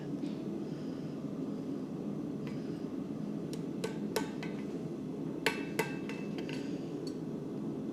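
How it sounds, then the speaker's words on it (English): A ball-peen hammer taps a rivet with a handful of sharp, light metallic strikes, some in quick pairs, heard fairly close over a steady low background hum. "So we can take the ball peen and tighten up that rivet just a little bit more."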